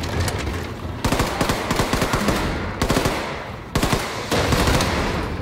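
Rapid automatic gunfire from the video game Wolfenstein 2 The New Colossus rattles in dense bursts broken by brief pauses, loud and sustained, with a few sharper single shots.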